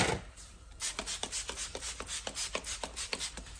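Window glass is scrubbed while being prepared for tinting, a rasping stroke repeated about a dozen times in a brisk, even rhythm, close and fairly loud with no talk.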